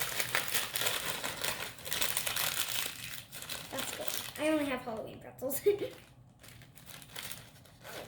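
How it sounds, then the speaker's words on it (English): Crisp crinkling of a plastic bag being handled throughout, with a person speaking briefly over it. "I'm going to take my pretzel and put it all inside the plastic bag."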